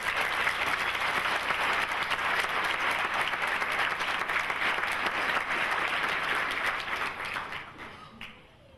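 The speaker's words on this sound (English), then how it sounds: "can you give them another round of applause?" Sustained applause from a large crowd at a Navy medical laboratory technician graduation ceremony honoring special award recipients, a dense steady wash of clapping that holds for several seconds and then tapers off near the end.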